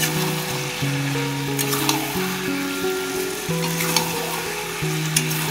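Chicken sizzles steadily in a pan for chicken kasha while it is stirred constantly. Soft scrapes recur over a continuous close frying hiss, and steady background music plays underneath.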